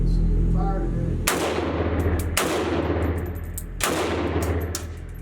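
Three loud, close rifle shots from a Meridian Defense Pestilence AK-47 firing polymer rounds outdoors on a range, spaced about a second apart, each a sharp blast with a ringing tail.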